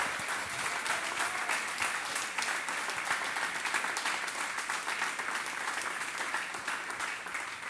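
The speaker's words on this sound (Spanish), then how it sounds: "dele una ofrenda de palmas al Señor" Steady, dense applause from a church congregation offering clapping to the Lord, many hands beating together continuously at an even level throughout.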